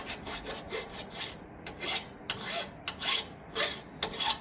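Steady back-and-forth rasping of a round file enlarging a drilled hole in metal for a Jeep track bar, repeated strokes in a regular rhythm, close by, with no talking.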